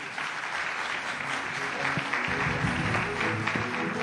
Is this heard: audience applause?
yes